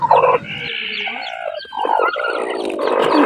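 Native chickens in a nest area, with a hen clucking and fowl calling in bursts throughout, fairly close and loud, some crowing-like calls mixed in.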